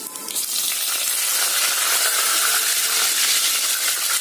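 Curry leaves hit hot oil in a pan alongside urad dal and two dried red chillies, giving a loud, steady crackling sizzle close by with no voices.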